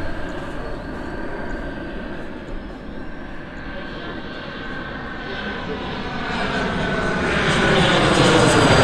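A fixed-wing airplane passes overhead near a runway, its engine roar loud and steady before swelling louder toward the end, with people talking briefly under it.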